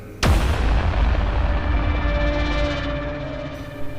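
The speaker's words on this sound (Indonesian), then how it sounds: "sebuah ledakan besar terjadi, menghancurkan tenda-tenda di sekitar mereka." A single massive blast erupts suddenly, then a long, heavy rumble rolls on and slowly fades, loud and close.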